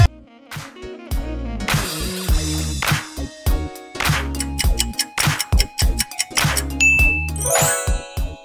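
Electronic music of the Sonic the Hedgehog version of a meme song plays loudly. A bouncy beat carries bright chiming, bell-like tones and synth melodies throughout, with no voices.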